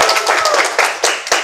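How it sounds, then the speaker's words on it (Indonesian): A student audience claps to welcome guests, a short burst of loud, close handclaps in an uneven rhythm with a few distinct sharp hits. "Keren banget gak sih? Tepuk tangan dong."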